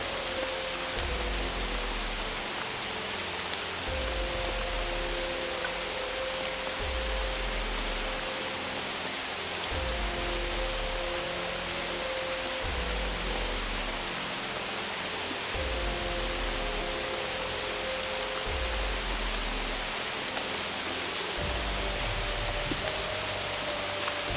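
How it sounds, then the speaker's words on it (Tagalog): Steady, heavy rain pours continuously with a dense hiss, while a low rhythmic hum pulses underneath throughout. "Ulan na."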